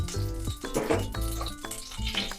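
Bay leaf and whole spices frying with cumin in oil in a pan over low heat, a close, busy sizzle mixed with repeated scraping and clinks of a spoon stirring against the pan.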